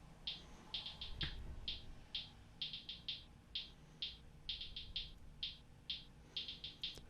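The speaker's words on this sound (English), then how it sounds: "I got this halftime hi-hat, so I take the plug-in halftime." A halftime hi-hat pattern made with a halftime plug-in plays quietly on its own, a sparse, slightly uneven run of crisp ticks with a bouncing rhythm over a faint low background.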